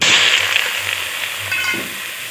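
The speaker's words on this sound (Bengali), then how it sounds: "গুগলিগুলো ভেজে নিতে হবে।" Apple snails frying in a dry wok with no oil, releasing water as they cook; a soft, hissing sizzle with scraping stirs, strongest at the start and gradually fading, with no talking.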